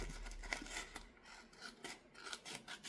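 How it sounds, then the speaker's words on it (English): Scissors snip through a printed sublimation design sheet, cutting it in half by hand; close, dry rasping cuts come in a few quick strokes with no talking. "I can just snip that in half"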